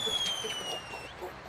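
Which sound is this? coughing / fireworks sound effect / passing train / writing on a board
fireworks sound effect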